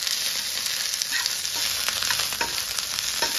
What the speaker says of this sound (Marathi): पत्ताकोबी आपण चांगला थोडासा फ्राय केलाय, त्याच्यानंतर आपण घालतोय शिमला मिर्च